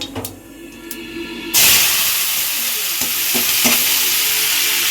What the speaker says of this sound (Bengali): এখানে আলু ভাজা চাপানো হচ্ছে